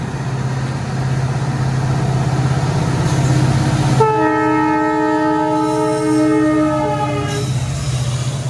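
A crossing train passes through a railway station with a steady rumble, then a loud, sustained horn blast of about three seconds sounds over it before the rumble continues alone.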